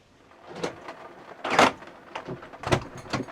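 Several sharp thuds and rattles come from a camper van's door being worked shut in the rain. The knocks are close and irregular, with a louder slam in the middle, and there is no talking.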